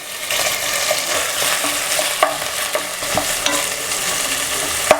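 Chopped onions sizzle in a pan with chicken cubes for a chopsuey, a steady broadband frying hiss with occasional sharp spatula scrapes and pops, close and continuous with no voices.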